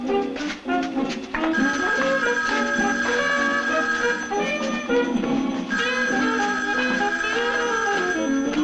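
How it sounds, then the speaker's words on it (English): A telephone ringing in a 1950s television drama set in a newspaper office, a sustained bright electronic ring with repeated tonal bursts, loud and continuous for several seconds. "Hey, somebody answer the phone, huh? Answer the phone."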